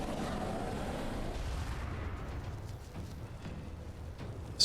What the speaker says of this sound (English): We'll breathe some fire on this guy.